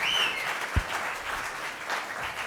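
Audience applause at a master's music recital at the Frost School of Music, a moderate wash of clapping heard from the hall, with a brief thump and a faint whistle near the start.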